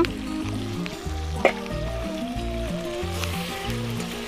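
Chicken kosha sizzling and frying in a pan while being stirred, a steady close crackle with occasional scraping knocks of the utensil, no talking.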